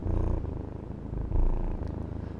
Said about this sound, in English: You can just pick it up and it will purr.